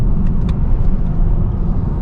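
A BMW X6 40d on a test drive gives a steady, loud low rumble from its engine while short on power at low revs, with road noise and no clear revving.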